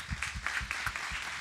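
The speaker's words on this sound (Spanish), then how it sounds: "Vamos a darle un fuerte aplauso." A burst of church congregation clapping, somewhat ragged with individual claps audible, lasting only a moment.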